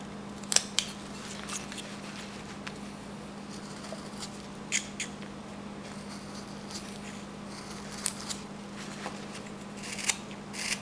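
A knife whittles wood, cutting along carving boundaries in a sea-hand figure, giving faint, sparse scraping cuts and small clicks over a quiet, constant low hum.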